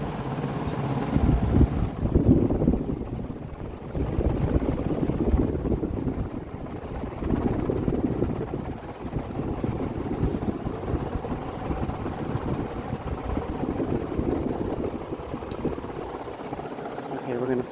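Dayton 60-inch industrial ceiling fan, model 4C721, running steadily with a broad, rushing whoosh of moving air and a low rumbling drone that pulses gently over time.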